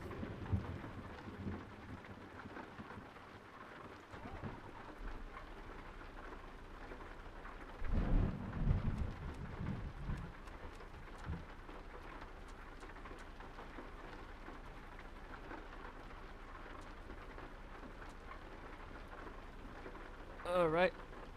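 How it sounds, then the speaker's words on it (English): Thunderstorm weather in the video game Euro Truck Simulator 2: steady rain patters throughout, with a deep thunder rumble in the middle. Someone talks quietly over it. "Still stormy weather, I see."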